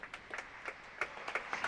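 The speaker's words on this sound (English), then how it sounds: "Fairly, as I say, fairly tepid applause for a rather jammy net call" Polite, sparse applause from a small crowd at a real tennis match, light scattered claps at a moderate distance that stay subdued and do not build.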